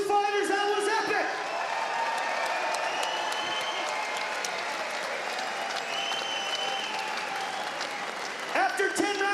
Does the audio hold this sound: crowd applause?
yes